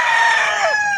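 Rooster crowing once in a loud, close, sustained call at Calmado Game Farm in San Fernando, Pampanga, heard alone with no talk.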